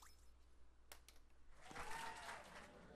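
Brief cheering and clapping from a crowd after a Power Moon is collected in Super Mario Odyssey's Metro Kingdom, swelling up over the second half after a few short game sound effects.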